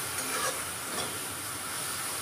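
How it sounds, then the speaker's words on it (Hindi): Tomato masala sizzles and fries in ghee, a steady broadband hiss with faint stirring scrapes, fairly quiet and without voices. "तब तक हम अपने टमाटर को अच्छे से भून लेंगे"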